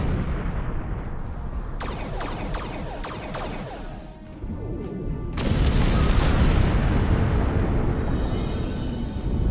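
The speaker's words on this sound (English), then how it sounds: "Bombs away." Bombs going off in a space-combat video game, a dense rumbling barrage of booming explosions that swells louder partway through and keeps roaring without a break.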